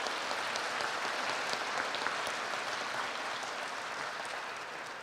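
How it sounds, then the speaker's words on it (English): Steady, dense applause from a large crowd at the West Kentucky Community and Technical College 2017 commencement ceremony, continuous and full, gradually easing toward the end. "Let's give a round of applause"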